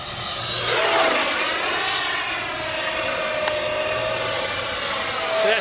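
An FMS Rafale 64mm electric ducted-fan RC jet flies past, its high-pitched fan whine rising sharply in pitch, then holding a loud, steady scream that stays close and strong for several seconds.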